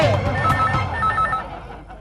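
Telephone bell ringing in a flat, a loud jangling ring with a few rapid bursts over a second and a half, set against background commotion and a voice.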